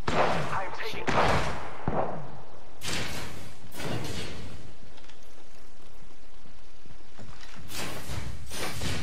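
Incoming gunfire in the video game Apex Legends, sharp loud shot bursts and impacts clustered early and late, close with a lull in between, with some voices over the battle.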